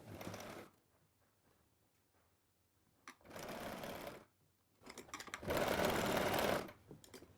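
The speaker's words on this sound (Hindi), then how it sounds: "कट से मिला के सिलाई लगाना हम स्टार्ट करेंगे" A sewing machine stitches a pocket onto a kurti in three close, loud bursts of rapid mechanical whirring, separated by quiet pauses.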